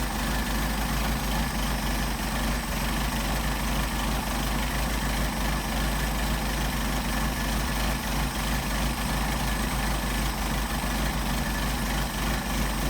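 A warmed-up engine fed by Solex 44PHH carburetors idles steadily with a dense, low rumble, loud and unbroken, with no talk over it.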